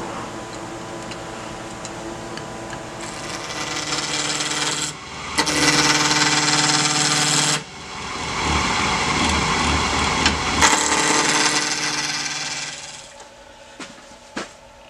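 A walking stick blank spinning between centers on a wood lathe while being rounded, with a steady rasping scrape of the tool on wood under a continuous motor hum, cutting in and out in long passes.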